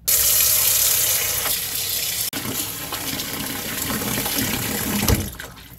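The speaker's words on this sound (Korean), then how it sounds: "파래는 그냥 손으로 살랑살랑 이렇게 씻으면서요" Running water gushes and splashes in a sink as green laver seaweed is washed by hand, a loud close rush with shifting swishes and sloshes as hands move through it.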